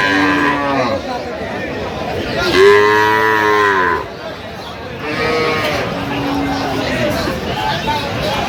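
Dairy cows and calves moo loudly nearby at a cattle market in Dinajpur, Bangladesh, two long drawn-out lows, while people talk in the background throughout.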